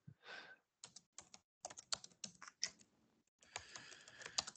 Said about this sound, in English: As you guys are just talking, yep, I'm typing.